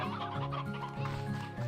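Chickens in the video game Slime Rancher 2 cluck in a quick, repeated rhythm, close and steady, with a soft game ambience underneath.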